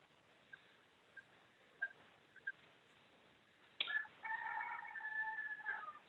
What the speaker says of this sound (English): I'm hearing a rooster.